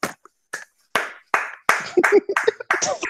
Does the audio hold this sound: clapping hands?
yes